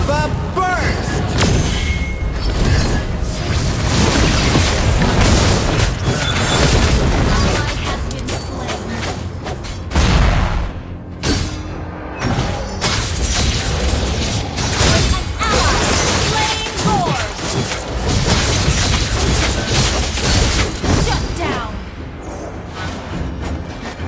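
Dense, loud fire skill explosions and booming impacts from Mobile Legends pile up almost continuously, with a voice talking over the clamor throughout.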